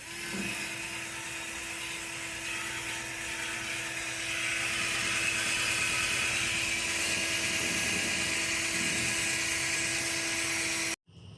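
A steady, high-pitched whine of a cordless drill removing rust from iron runs continuously, growing slightly louder partway through, then cuts off abruptly at the end.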